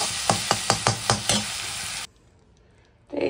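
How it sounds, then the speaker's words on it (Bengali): Onion, ginger, garlic and green chili paste masala frying in a pan: a spoon stirs in about six quick rhythmic scrapes over loud sizzling, then the sound cuts to near silence before the sizzle briefly returns. "এখানে পেঁয়াজ, আদা, রসুন আর কাঁচা লঙ্কা পেস্ট দিয়েছি, দিয়ে কষিয়ে একটু টমেটো দেবো।"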